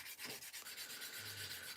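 Steady scratchy rubbing of a sanding stick on a model, close and continuous, with short repeated strokes.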